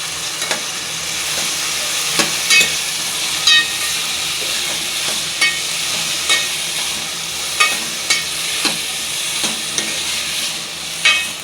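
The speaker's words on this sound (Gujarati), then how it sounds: "ચાલો મીઠું નાખી દે, હળદર નાખી દીધું છે. ચાલો સરસ મજાનું મિક્સ કરી નાખશું." Ridge gourd and potato curry with salt and turmeric being stirred in a pot, with steady frying sizzle and hiss under regular scraping clinks of the spoon, close and continuous.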